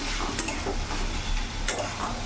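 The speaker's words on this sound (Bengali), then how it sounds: "কিছুক্ষণ এখন মশলাটা আমি কষে নেব" A turmeric, chilli and cumin spice paste for tilapia curry sautés in a pan, with a constant close sizzle and a few brighter scrapes of the stirring spoon.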